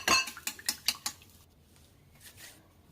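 Chicken mixture with salt, black pepper and half a cup of milk being mixed in a bowl, a quick run of clinking, scraping strokes against the bowl that fades into near silence.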